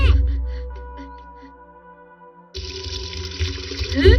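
Water splashes steadily from a fountain as a cartoon character washes hands, a running flow that starts abruptly after a fading tone and continues close and fairly loud.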